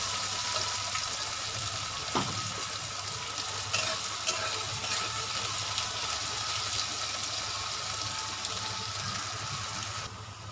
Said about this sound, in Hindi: तो आलू को थोड़ा भूनना ज़रूरी है, तो मैं प्याज के साथ भून लूँगी